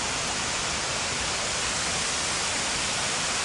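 Water rushes steadily at a lake reservoir outlet, a dense, even broadband roar with no breaks, loud and close, with nothing else heard.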